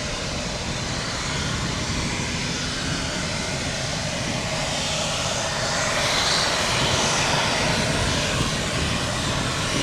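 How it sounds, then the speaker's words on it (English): Allegiant Boeing 767 jet taking off from runway 1 right at Tampa, a loud, steady engine roar that holds close and swells slightly toward the end, with no voices over it. "Tampa Tower, runway 1 right, clear for takeoff."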